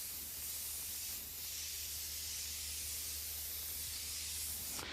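An airbrush sprays paint under air pressure, giving a steady, close, bright hiss that holds evenly for about five seconds and then cuts off sharply at the end, with no voices.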